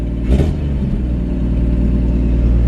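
A warming 1954 Chevrolet 235 engine idles loud and close, with a steady low rumble and an even, slightly fast beat.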